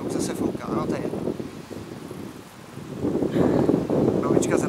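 Outdoor wind buffets the microphone in uneven rumbling gusts, strong at the start and again toward the end, while someone speaks under it.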